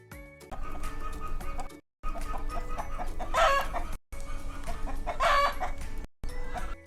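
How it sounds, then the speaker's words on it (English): Farm chickens cluck steadily while a rooster crows twice, loud and close, in separate bursts broken by short silences. "2 chickens."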